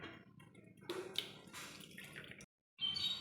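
Grated coconut squeezed by hand in hot water to draw out coconut milk for a prawn malai curry, giving wet squelching and dripping splashes close by, with a short silent break near the end.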